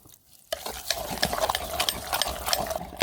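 Cooked amaranth greens (siru keerai) are churned for kadayal with a wooden masher in a pot. After a brief quiet start, a close, steady run of rhythmic wet squelches and scraping strokes follows without pause.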